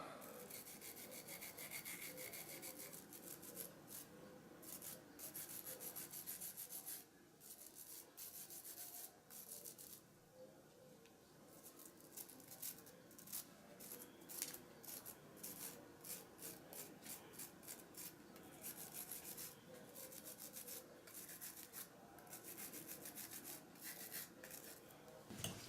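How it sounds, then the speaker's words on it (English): A wire brush scrubs flux off a freshly soldered joint on an axle, with steady rapid scratching strokes running continuously, close and fairly loud, with no voices. "And then I take a wire brush and clean it off."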